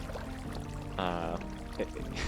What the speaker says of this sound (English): You can also access that room by going behind this waterfall.